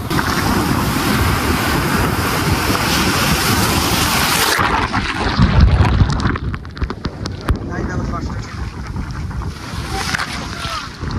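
Ocean waves surge and wash over a roar of wind at night on the coast at Puri, loud and close, with the noise easing midway and a voice speaking briefly.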